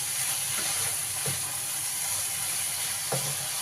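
Chicken frying in a pan for a home-style chicken fry, with a steady close sizzle and a few soft stirring knocks.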